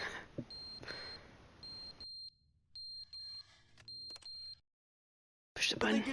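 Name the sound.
fire alarm beeping in video game The Stanley Parable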